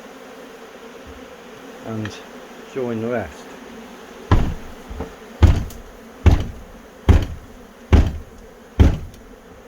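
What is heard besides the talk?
honey bee swarm buzzing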